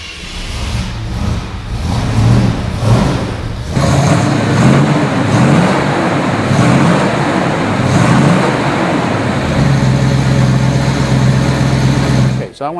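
A 1967 Ford Mustang GT500 convertible fires up, a brief cranking followed by a loud V8 catching and settling into a rough, throbbing idle with blips of revving, close by and running steadily until it cuts off at the end.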